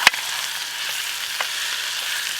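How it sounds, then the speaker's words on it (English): Food sizzles steadily while frying in a pan over a gelled alcohol camp stove outdoors, a continuous close hiss with a couple of sharp pops and no talking. "Oh, listen to that sizzle."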